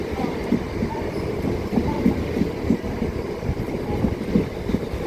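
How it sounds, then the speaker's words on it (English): A Class 395 train pulls out of Ashford International toward St Pancras as an empty stock move, giving a steady low rumble with faint repeated wheel clicks at middle distance and no talk over it. "As there goes 395 off to St Pancras as an ECS."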